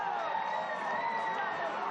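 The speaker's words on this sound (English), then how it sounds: "And the whole crowd brought to their feet." A football crowd roars and cheers after a goal in the Brisbane City v Western Sydney Wanderers Australia Cup 2024 match, a loud, sustained wash of voices filling the stadium without a break.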